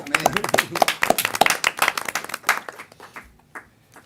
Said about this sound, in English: we should give him a round of applause for that